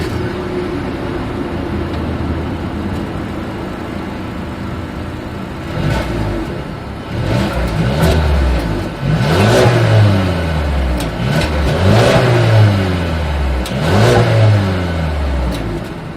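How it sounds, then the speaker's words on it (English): Exhaust of a 2020 Mercedes-Benz E 220 d diesel sedan with chrome-tipped outlets, idling steadily before several sharp revs rise and fall in succession, loud and close behind the car. "As always, here is that exhaust clip."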